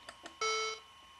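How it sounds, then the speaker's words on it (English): A Macintosh PowerBook 5300cs plays its Simple Beep alert, one clean sustained electronic tone lasting about a third of a second, preceded by two faint clicks, heard alone and close. "And here's my favorite, simple beep."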